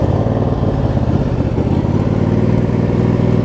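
A John Deere LX279 riding mower's small engine idles steadily, a loud, continuous low rumble close by with no talk.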